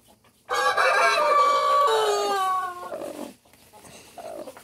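Chickens at a freshly arranged nest as hens begin to hatch eggs, a single loud close crow-like call lasting a few seconds, then quieter clucking and rustling.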